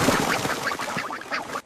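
Cartoon ducks on a farm quack loudly in a rapid, overlapping flurry of nasal calls as they attack, filling the short burst before cutting off abruptly.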